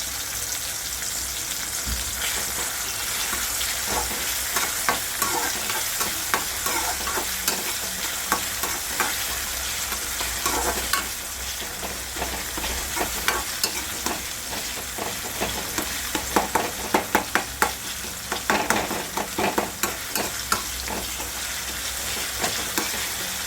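Tomatoes and ginger-garlic paste fry in a pan with a steady, close sizzle, broken up by scraping and stirring strokes.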